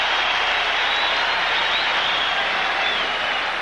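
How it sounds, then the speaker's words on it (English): A basketball arena crowd at a 1982 NBA Finals game between the Sixers and Lakers gives a sustained ovation, dense steady applause and cheering filling the space at a constant loud level throughout. "the crowd gives Kareem an ovation for his hustle"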